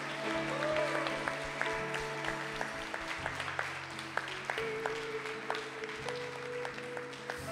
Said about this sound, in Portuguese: Quem pode aplaudir Jesus bem forte